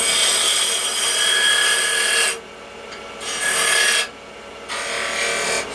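Hope 8mm carbide tool cutting a spigot on a spinning wooden blank on a lathe, a loud close hissing scrape that starts and stops in several bursts.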